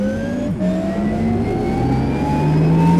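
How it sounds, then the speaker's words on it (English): Porsche Taycan car sound from a commercial's sound design: a loud, close, rising electric whir with climbing tones that sweep steadily upward as the car accelerates, heard alone. "I guess all the weight is coming from the car sound itself"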